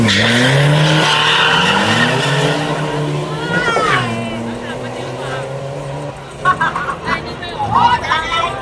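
Toyota Hilux mini trucks drag racing in Thailand, engines screaming loudly through rising revs with tire squeal, then fading as they pull away while excited spectators shout and talk nearby.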